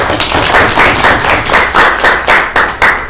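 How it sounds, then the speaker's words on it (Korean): A class claps together at the end of a lesson in a steady, dense round of applause lasting a few seconds, with no voices over it. "박수 치면서 수업 마무리하겠습니다"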